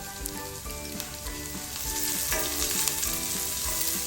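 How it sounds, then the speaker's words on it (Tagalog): Onion added to garlic already sautéing in a pan gives a steady, close sizzle with soft crackle throughout, a little louder toward the end, and no talking. "Ngayon naman po, isusunod ko na itong sibuyas."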